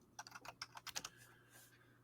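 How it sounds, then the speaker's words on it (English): Quiet, close typing on a computer keyboard during a podcast recording: a quick run of about a dozen light key clicks over roughly a second, then a softer trailing keystroke against a low background hum. "I'm typing."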